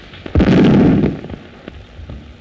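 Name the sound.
artillery shells exploding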